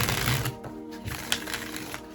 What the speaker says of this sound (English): Shuffling up so we can get some clarification.